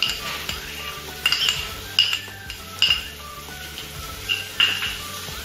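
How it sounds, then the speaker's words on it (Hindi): Capsicum and green chillies being stir-fried in a pan for Manchurian, with a steady sizzle under repeated clinks and scrapes of a spatula against the metal. "अब हम शिमला मिर्ची डाल रहे हैं।"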